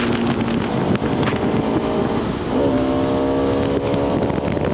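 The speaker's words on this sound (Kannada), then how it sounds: "ಈ ಗಾಡಿ ರೆಡ್ ಲೈನ್ ಆಗೋಕ್ಕೆ ಟೈಮೇ ತಗೊಳ್ಳಲ್ಲ ಗುರು, ಪಟ್ ಪಟ್ ಅಂತ ರೆಡ್ ಲೈನ್ ಆಗಿಬಿಡುತ್ತೆ" A Bajaj Pulsar RS 200 sports motorcycle engine revs toward redline while riding, its whine climbing in pitch under heavy rushing wind noise, dropping briefly before rising sharply again.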